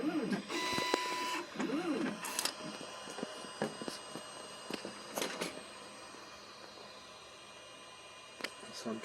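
An Artillery Sidewinder X3 Pro 3D printer runs its start sequence, giving sweeping, rising and falling stepper-motor tones with short clicks and whirs, loud at first and then settling to a quieter mechanical hum.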